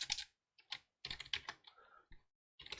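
Keys clacking on a computer keyboard while entering data into a spreadsheet, with Tab presses among them, in short irregular clusters of crisp clicks separated by brief pauses, close and alone.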